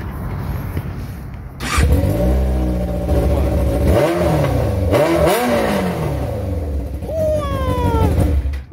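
A warm Yamaha R6 motorcycle engine starts and is revved repeatedly, with sharp rising and falling blips over a rough idle, loud and close, ending in a high climbing rev.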